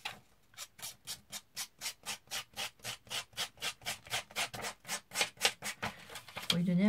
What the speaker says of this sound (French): je vais prendre mon ciseau comme ceci. Et je vais venir un petit peu vieillir mon image.